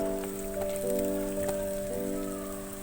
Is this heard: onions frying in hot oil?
yes